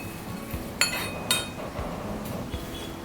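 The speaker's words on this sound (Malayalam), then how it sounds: "നമുക്ക് വേറൊരു പാത്രത്തിലോട്ട് മാറ്റി വയ്ക്കാം" Fried shrimp being moved into another pot with a utensil, making a few sharp metallic clinks against cookware, spaced about half a second apart over a quiet kitchen background.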